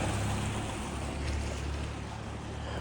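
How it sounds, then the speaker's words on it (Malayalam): Snowmelt water rushes steadily in a stream in Leh, a constant broadband roar with no pauses and no voices. "മഞ്ഞുരുകി വരുന്ന വെള്ളം"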